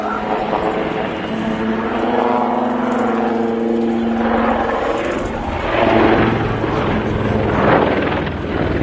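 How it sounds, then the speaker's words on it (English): A Westland Wildcat HMA-2 naval helicopter hovers at an air show, its loud steady rotor and turbine drone filling the air with a whining engine tone, while an announcer talks over it. "This is the Naval Wildcat HMA-2"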